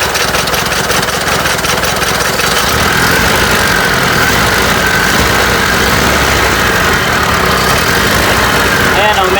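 An engine with a dead spark plug idles roughly nearby, a loud, continuous uneven chugging with a faint voice in the background.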